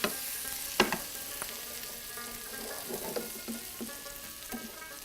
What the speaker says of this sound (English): now he's sauteing the onions